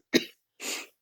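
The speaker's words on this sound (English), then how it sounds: "Please excuse my coughing and hacking." A person coughs twice in a quiet room: a sharp, harsh hack, then a short pause and a longer, breathy rasp. No one speaks.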